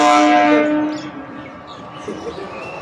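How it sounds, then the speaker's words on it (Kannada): A passing train blares a loud horn with a steady tone that fades away within about a second, leaving a low rumble and background noise behind it. "ನೋಡಿ ಟ್ರೈನ್ ಹೋಗ್ತಾ ಇದೆ"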